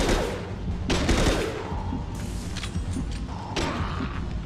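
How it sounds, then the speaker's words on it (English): Close, heavy shots from a high impact weapon in the Mass Effect 2 video game crack out in several loud bursts with a rattling tail, backed by a dense battle din throughout. "Firing a high impact shot!"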